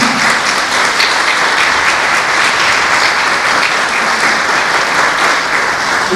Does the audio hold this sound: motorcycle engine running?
no